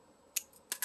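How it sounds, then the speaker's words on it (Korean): Two crisp snips from sterilized cleaning scissors trimming material, close and distinct, separated by a short pause in a quiet room. "세척 가위로 이렇게 잘라주시면 돼요."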